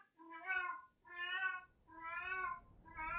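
A female cat meows for attention, four drawn-out harmonic cries in steady succession, close and clear with no one talking.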